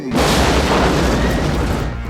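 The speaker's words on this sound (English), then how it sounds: "You may hear some strange noises today, like explosions." A loud, close explosion booms from an action film, its roar filling the whole clip with a broad, rumbling blast that holds steady before easing off.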